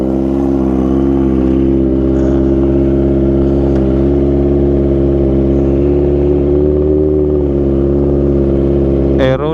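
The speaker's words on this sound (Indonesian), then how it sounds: "Suaranya, waduh, kacau sih ini" Loud, close idle of a cold Kawasaki ZX25R running an Arrow Pro Race exhaust with Radamel Racing header, a steady raspy multi-cylinder drone holding even throughout, with a sharp rev blip right at the end.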